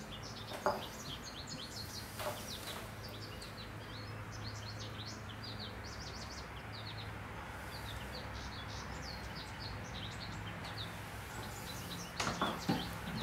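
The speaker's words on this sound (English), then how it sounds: "Bird is singing, isn't it?" A bird sings outdoors in sunshine, repeated bright chirps and short trilled phrases coming from some distance over a quiet background, with occasional soft thumps and handling noises nearby.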